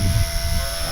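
Toy drone helicopter flying close by, a steady loud rotor whir with a low buzzing drone holding throughout the short moment.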